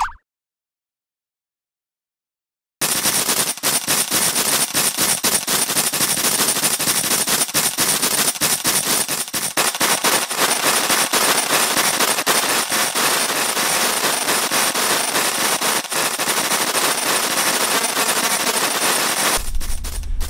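Rapid cartoon pellet gun fire in a Pinoy animation, a near, loud, continuous rattle of shots running unbroken after a brief silence, with no talk over it.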